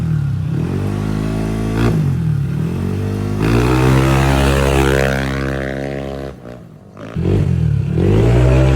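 A repaired motorcycle engine is test-run close up, revving loudly in rising and falling waves, drops briefly near idle, then revs hard again.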